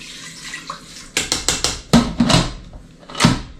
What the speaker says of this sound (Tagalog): Lagyan ko na rin ng konting tubig.